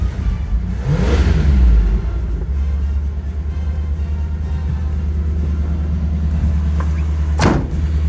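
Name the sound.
1979 Chevy G20 van engine starting and running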